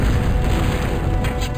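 Heavy cannon fire rumbling from the Total Annihilation: Kingdoms strategy game, a loud, dense, continuous low booming with no gaps and no talking.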